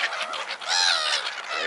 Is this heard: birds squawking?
yes